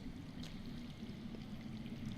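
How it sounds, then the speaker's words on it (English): Water flowing underground in the video game Game of Thrones (Telltale), a steady, soft rushing and trickling stream that runs on its own without a break. "I hear water. From underground."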